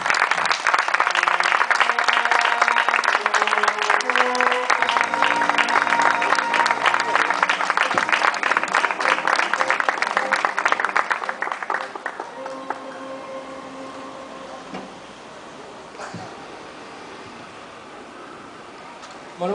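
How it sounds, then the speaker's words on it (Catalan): Audience applause at the proclamation of the Reina de l'Horta de València, a loud, dense burst of clapping from a large crowd with music underneath, tapering off into quieter background sound and faint voices. "Rebrem-lo en un fort aplaudiment."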